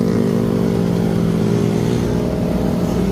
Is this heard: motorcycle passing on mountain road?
yes